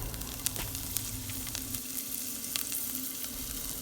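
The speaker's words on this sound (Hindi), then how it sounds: "सेम उसी पैन में मैंने लिया है बटर, और बटर डालने के बाद जब ये मेल्ट हो जाएगा उसके अंदर मैं डालूँगी चॉप्ड गार्लिक।" Chopped garlic sizzling in melted butter in a pan for white sauce pasta, a steady close crackling hiss with small scattered pops throughout and no voices.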